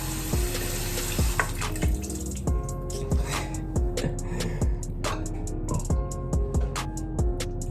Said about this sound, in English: So just wet your hair in a circular motion.